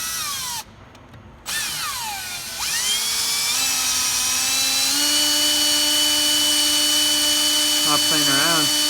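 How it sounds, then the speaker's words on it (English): A power drill bores into wood to make a mounting crevice for a bromeliad in a Biopod Aqua terrarium, its motor whining up in pitch and then holding a steady, loud, high tone for several seconds with no talking. "we're going to drill down into the wood somewhere here and just use it as a crevice to mount this bromeliad"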